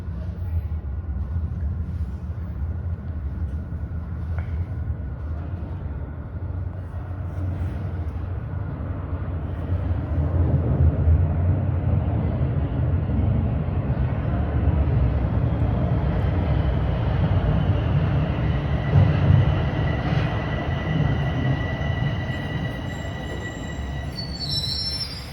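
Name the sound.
TTC Line 4 subway train arriving at Bayview station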